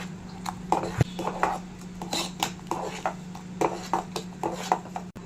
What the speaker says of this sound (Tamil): வெள்ளம் போட்டு நல்லா அடியிலேருந்து கிளறி விடலாம்